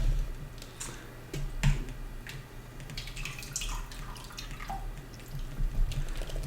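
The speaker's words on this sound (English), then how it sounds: "So what I do is I scoop them into the strainer." Homemade feta cheese curds, made in an Instant Pot, are scooped into a strainer, giving close, irregular drips and splashes of liquid along with a few light clicks of a utensil.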